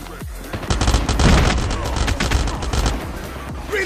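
Rapid close-range bursts from the Pharo SMG in a Call of Duty match, loud dense automatic fire rattling almost continuously over heavy low booms.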